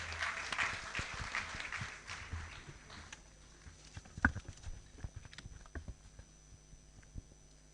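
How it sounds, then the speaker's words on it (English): Audience applause at a university ceremony as the Provost comes up, a fading patter of clapping heard from a distance, followed by scattered individual claps and footsteps. "Please, a round of applause as Professor Echoes comes up."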